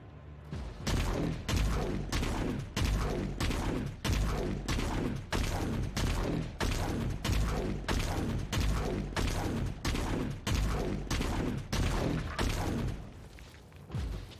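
Sustained gunfire in Warhammer 40,000: Inquisitor, a long string of about twenty heavy, evenly spaced booming shots with brief gaps between them, loud and close with no talk.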